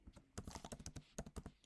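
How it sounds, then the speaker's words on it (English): Rapid typing on a computer keyboard, a quick irregular run of close, crisp key clicks and taps in a quiet room. "I'm going to be typing this out."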